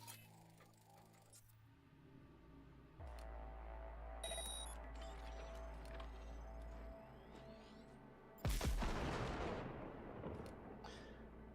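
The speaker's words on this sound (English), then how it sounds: "Now, detonate the grenade." A grenade detonating in a video game, a sudden loud explosive burst that rings out and decays over a few seconds, following a stretch of low droning game sound and electronic tones.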